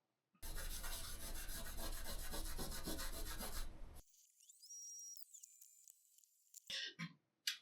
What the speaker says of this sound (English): Here's wet sanding, right?